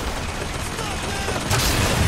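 Video game gunfire from a weapon in Bioshock Infinite, a dense burst of loud blasts with a sharper, heavier shot near the end.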